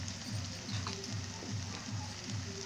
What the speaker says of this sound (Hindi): देखिए मेरे मटर कितने अच्छे भुन गए हैं, पक गए हैं।